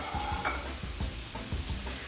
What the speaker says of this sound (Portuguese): Enquanto tá fritando a linguiçinha,